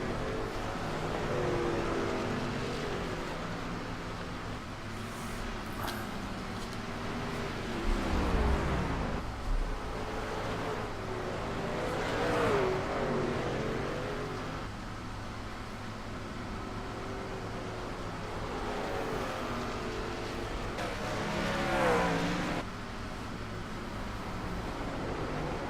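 Race trucks lapping the Lime Rock circuit on warm-up laps, engines rising and fading as they pass at a distance, with a steady hum of track ambience and no talk.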